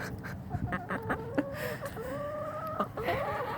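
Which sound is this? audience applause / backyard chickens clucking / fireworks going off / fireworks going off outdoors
backyard chickens clucking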